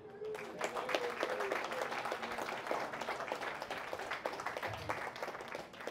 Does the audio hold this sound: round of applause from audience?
yes